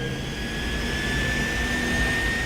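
A Deccan Airways jet airliner's engines give a loud, continuous roar with a high, steady whine running through it, with no voices.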